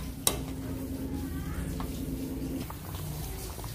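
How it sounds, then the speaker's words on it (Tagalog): A pot of chicken pochero with saging, kamote, pork and beans and Baguio beans is stirred. A sharp clank of the utensil against the pot opens a steady scraping, sizzling churn that carries on under faint background noise. "Natapos ko na siyang haluin ng maigi."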